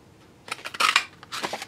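Scissors snip through paper while cutting out paper balloon shapes in a card-making session, a few short crisp cuts in quick bursts, close and fairly quiet with no talking.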